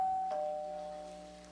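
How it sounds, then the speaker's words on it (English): Doorbell chime rings twice in quick succession, two clear bright tones that ring on and fade slowly, with nothing else heard. "I think I hear the doorbell."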